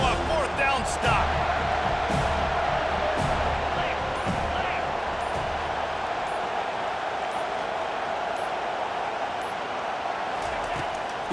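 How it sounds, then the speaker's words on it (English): Stadium crowd in College Football 25 roars steadily and loudly throughout, a dense sustained wall of noise with a few sharper bursts early on, rising as the home fans push for a fourth-down stop. "This crowd busting the decibel meter and trying to will a fourth down stop"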